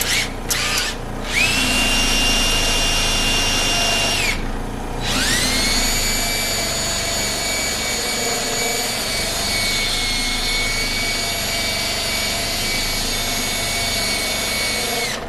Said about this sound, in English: and then put them in a drill.